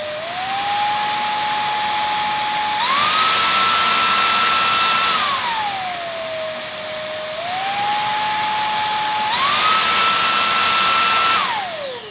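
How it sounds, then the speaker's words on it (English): Vacuum cleaner running without a motorized brush, a loud whining motor that steps up and down between minimum, medium and maximum suction, pitch rising and falling smoothly with each change, no voices. "Now I want to show you how the vacuum sounds at the minimum suction power, the medium suction power, and the maximum suction power."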